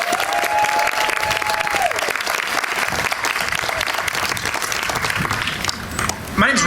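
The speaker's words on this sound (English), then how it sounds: "Let's give a round of applause as we celebrate the official ribbon cutting here" Crowd applause fills a school ribbon cutting ceremony at Reiche Elementary in Portland, steady and sustained for several seconds, with a brief tone and some voices mixed in near the end.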